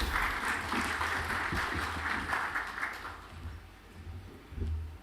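Moderate applause from an audience at an economic outlook forum, steady clapping that fades toward the end, with a brief burst of noise near the close.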